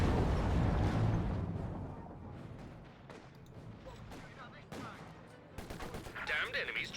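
Bren gun fire from a Company of Heroes 2 match crackles in quick rattling bursts amid scattered gunshots and explosions, fairly faint, with battle noise throughout.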